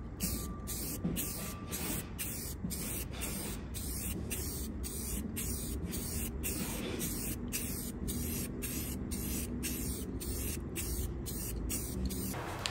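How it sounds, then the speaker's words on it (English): An aerosol spray-paint can hisses in a long series of short sprays while painting truck hardware, close and fairly quiet, with brief pauses between bursts. "I'll go through and spray paint the hardware"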